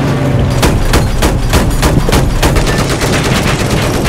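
Dense automatic gunfire in Battlefield 4 on the Lancang Dam map, loud and continuous, with rapid shots and heavy bursts packed together throughout and no talk over them.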